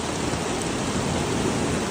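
Heavy storm rain in Kagoshima, Japan, a dense steady roar of downpour with no break or variation, loud and enveloping, with no voices.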